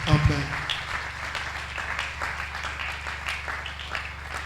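A church congregation applauding the Lord, steady clapping from many hands heard alongside voices and a low background hum.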